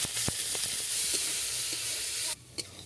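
Beans and carrots fry together in a pan, giving a loud, continuous close-up sizzle that cuts off abruptly near the end, followed by a single sharp clink.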